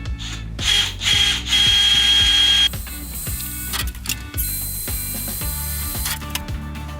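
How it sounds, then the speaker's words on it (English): A power drill runs loud and close with a rapid ratcheting rattle, speeding up and slowing in bursts as it bores pilot holes through a van body. "I'm just going to drill 2 pilot holes and check it outside."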